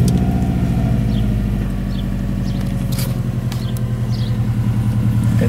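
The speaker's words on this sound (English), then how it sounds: "let's start the engine" A car engine runs with a steady, loud rumble at close range, idling evenly right after starting, with a faint rattle on top.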